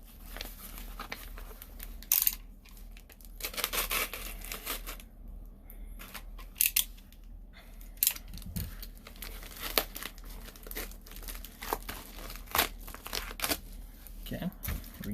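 Paper and packing tape crinkle, rip and tear as a heavily taped-up package from Hawaii is opened by hand, in irregular close bursts with a person talking throughout.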